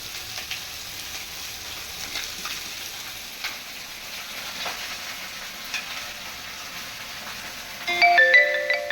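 Chopped banana flower soaked in curd drops into a hot pan and sizzles with a steady, soft frying hiss all the way through. Near the end a brief electronic ringing tone breaks in over the sizzle.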